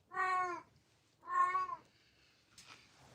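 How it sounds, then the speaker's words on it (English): A cat gives two clear, drawn-out meows in a quiet indoor room during a nalbinding craft session, with a pause between them, followed by a brief faint rustle. "I'm just frustrated with the cat."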